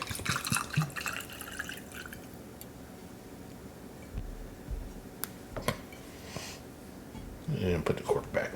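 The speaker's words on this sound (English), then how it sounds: "Let's give this a little pour." Knob Creek 9 Year bourbon is poured into a glass, giving soft trickling and dripping sounds near the microphone. A few light clinks and handling noises come in between, and louder rustling follows at the end.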